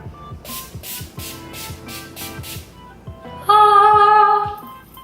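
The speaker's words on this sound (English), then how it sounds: "Using a setting spray after you are done with your makeup will not only make your foundation last" Makeup setting spray is misted onto a finished face in a series of quick, evenly spaced short hisses, followed by a louder sustained tonal sound.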